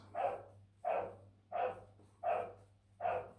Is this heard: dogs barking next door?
yes